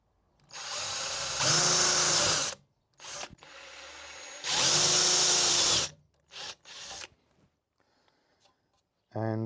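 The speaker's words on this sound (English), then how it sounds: "I'm going to use it as a pilot drill" A power drill bores a pilot hole into wood in two long, loud, steady runs, followed by shorter bursts and brief mechanical clicks. No one speaks.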